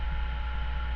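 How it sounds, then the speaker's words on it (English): A refrigerator compressor runs aboard a boat on a hot day, a steady low hum with faint tonal drone layered above it, constant and close. "that's the compressor from our refrigerator"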